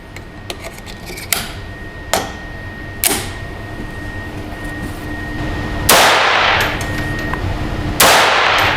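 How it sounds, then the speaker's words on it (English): Sharp reports from a pistol firing SK German-Swiss ammunition at a match, several spaced shots with metallic ring and a couple of louder, longer blasts later on. "Let's shoot more groups and see if that was a fluke, or if that ammo actually is that good in this pistol."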